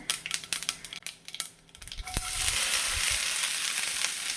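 Chopped okra and onion tipped into hot oil with chili flakes in a pan: a few clattering knocks, then a sudden loud, steady sizzle that keeps going to the end.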